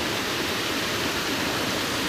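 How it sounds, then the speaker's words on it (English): Waterfall beside a mountain hiking side trail near Whistler, heard close up as a steady, dense, full-range roar of falling water that holds unbroken and even throughout. "out of this waterfall."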